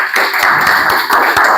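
A small group of students clapping in a classroom, a loud, close, slightly uneven burst of hand claps lasting a couple of seconds with no talk.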